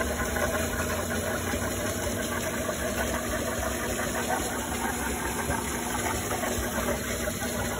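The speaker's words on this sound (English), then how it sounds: "Here's what it looks like backwashing." An Intex pool filter pump backwashing sends water out through a 2-inch PVC pipe, making a loud, steady rush and hum that holds unbroken throughout.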